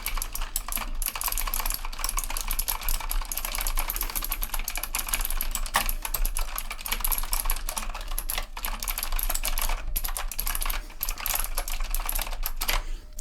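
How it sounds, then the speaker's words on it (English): Rapid, continuous tapping on a computer keyboard as a receipt is typed in a game controller store, close and crisp with dense, busy keystrokes throughout and only brief pauses. "Let me type up your receipt here for you."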